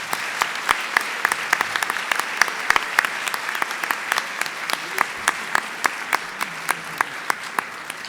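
At a theology colloquium, an audience gives the panelists sustained applause, with sharp individual claps standing out in a steady rhythm over the whole stretch.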